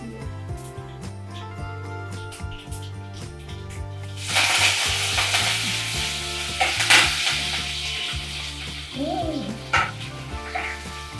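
Curry leaves dropped into hot tempering oil with garlic, bursting into a loud, crackling splutter about four seconds in and continuing with sharp pops. Before that, a steady tonal background plays alone.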